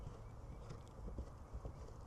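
Horse hooves thudding on the ground during a training session, a steady soft clip-clop rhythm heard faintly at some distance over low background noise.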